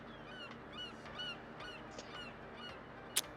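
Birds squawking as a sound effect in a Tales From The Loop tabletop role-playing session about killer birds: a steady run of about eight harsh, honking calls in a murky din, ending with a sharp click.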